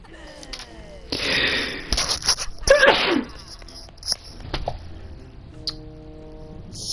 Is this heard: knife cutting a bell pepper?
no